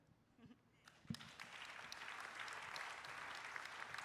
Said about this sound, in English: I think we owe them a bigger round of applause to these amazing career moms